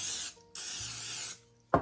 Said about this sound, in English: I am just going to grease them.